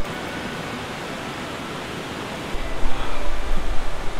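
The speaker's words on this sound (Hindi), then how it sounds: "कुछ पानी की आवाज़ आ रही है" Water of Hebbe Falls in a forest in Chikkamagalur, a broad continuous rushing roar heard from a distance that grows fuller and louder partway through.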